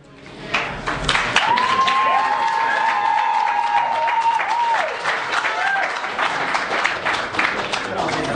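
Applause from the audience at a town hall meeting: sustained clapping from a crowd, close and loud, mixed with a whistle and scattered voices, then thinning out toward the end.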